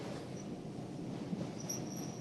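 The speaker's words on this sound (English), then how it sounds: "the wheels kind of screech along the rails more here" Train wheels screeching along the rails as the train rounds a corner, heard as a faint, steady high squeal over a low rumble of rolling stock.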